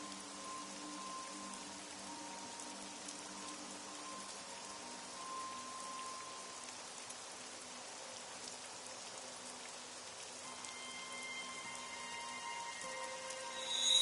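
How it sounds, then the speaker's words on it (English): Steady rain in the video game AI: The Somnium Files patters continuously, a soft even hiss of drops with faint tonal ambience underneath, growing slightly louder at the very end. "It's raining."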